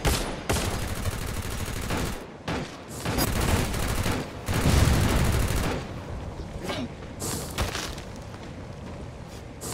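Loud, sustained bursts of automatic gunfire with heavy booms, nearly continuous for several seconds in a video game match.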